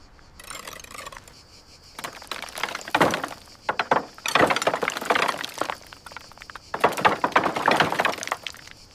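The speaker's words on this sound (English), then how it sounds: "Keep scraping the loose render." Loose render is scraped off a wall in an abandoned villa, producing repeated bursts of gritty scraping and crumbling up close, separated by short pauses, with no one speaking.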